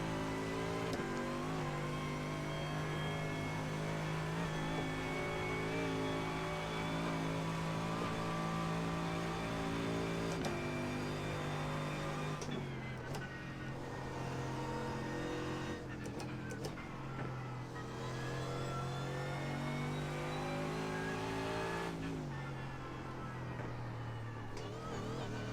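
A Mercedes AMG GT3 laps the Nurburgring during a 24-hour race in iRacing, its engine holding a steady, loud tone that steps down through gear shifts before climbing again.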